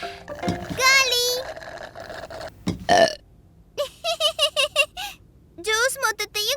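A cartoon character lets out loud, long burps after drinking all the juice, several stretched eructations between bursts of childlike cartoon voices and squeaky chatter.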